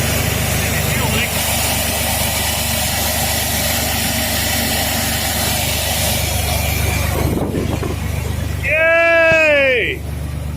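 A Chevy S10 Blazer with a built 4.3 engine runs steadily after sitting for years, a continuous loud engine drone with a rough idle throughout, joined near the end by a brief high rising voice.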